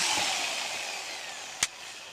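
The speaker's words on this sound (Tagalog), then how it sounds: "ginagrinder ko na lang po yan mga kamaster kasi manipis kayang-kaya naman ang grinder" An angle grinder works on a thin scabbard for a 24-inch blade with a dragon design, a high whining grind that slowly fades, broken by one sharp metallic click near the end.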